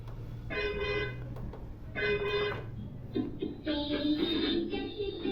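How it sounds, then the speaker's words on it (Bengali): Tinny electronic built-in music from a children's rechargeable Ferrari ride-on toy car plays in short melodic bursts with brief pauses, close by and fairly quiet, with faint background noise. "যেমন শুনতে পাচ্ছেন বেশ কিছু মিউজিক আছে"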